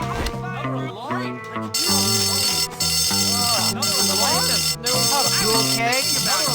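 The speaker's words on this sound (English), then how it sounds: "Who set that alarm off?" A fire alarm going off in a game, loud pulsing electronic tones repeating about once a second over busy in-game music, with a voice speaking near the start.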